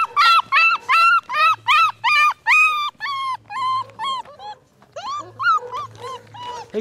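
Beagle puppies yip and whimper in rapid, high-pitched bursts, close and loud, a chorus of repeated cries that briefly eases before starting up again.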